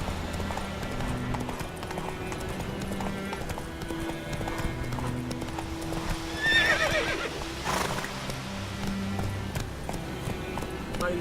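Roach, a horse in The Witcher 3 video game, trots with a steady clip-clop of hooves, and a clear neigh rises mid-way over a rumbling game soundscape.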